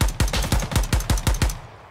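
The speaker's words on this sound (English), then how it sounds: "Yo, who else is shooting at me?" Gunfire in an online shooter game, a burst of about eight sharp, evenly spaced shots that sound close, heard alone without speech.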